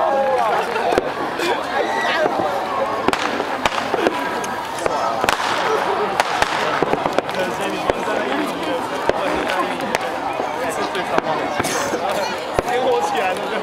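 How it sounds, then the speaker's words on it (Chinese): Fireworks for the 2009 New Year at Taipei 101 pop and crackle in a rapid irregular series of bursts, heard at a distance amid crowd noise and nearby talk. "烟火起来了"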